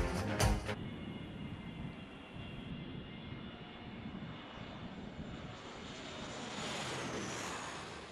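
An airplane's engines roar in a steady, loud broadband rumble as it climbs and flies, swelling slightly brighter toward the end with no voices.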